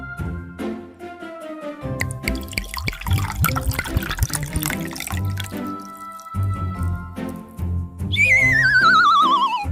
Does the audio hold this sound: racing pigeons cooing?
no